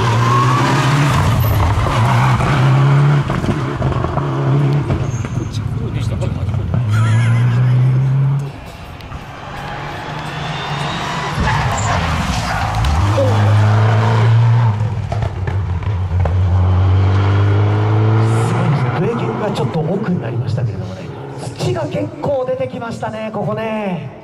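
A four-wheel-drive turbo rally car in the JN2 class passes on a Rally Karatsu stage, its engine rising and falling loudly through gear changes. Excited commentary and spectator chatter run over it throughout.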